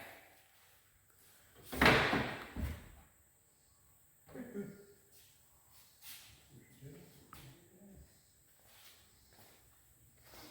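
A door being fitted in a pole barn home build, with a loud scraping thump as it is pushed into place, followed by softer knocks and shuffling movement.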